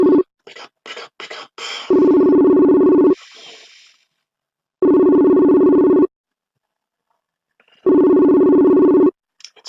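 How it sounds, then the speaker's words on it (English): A phone rings three times in long, evenly spaced electronic tones separated by silence, loud and close, after a few brief clicks. "It's ringing, but he's not picking"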